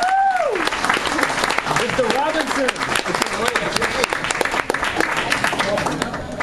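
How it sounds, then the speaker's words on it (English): Audience applause greets a comedian coming on stage at a Delaware comedy night, dense steady clapping throughout with a host's voice calling over it near the start. "give a nice round of applause to a very special guest"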